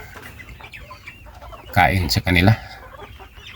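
Chickens cluck loudly in a short burst close by on a poultry farm, with a brief spoken phrase in Filipino over them and quieter background sounds around.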